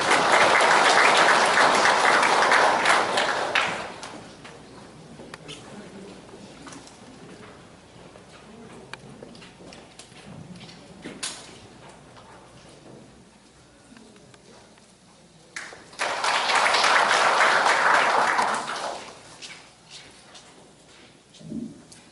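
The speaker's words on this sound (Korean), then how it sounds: "힘찬 박수로 맞이해 주시기 바랍니다." Applause from a seminar audience at Gumi City Hall greets the Bank of Korea Daegu-Gyeongbuk regional head before his opening address, with a loud burst of clapping at the start, a quieter stretch, then a second strong round of applause.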